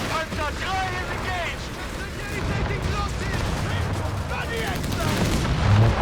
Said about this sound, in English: More grenades from Siberian.